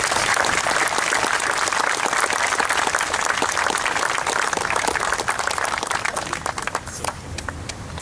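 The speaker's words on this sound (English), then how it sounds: "on his behalf, we applaud you." Outdoor crowd applause at a Vietnam War monument dedication ceremony in Arcadia, a broad steady clapping that thins toward the end into scattered individual claps.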